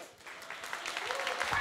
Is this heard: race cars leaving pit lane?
no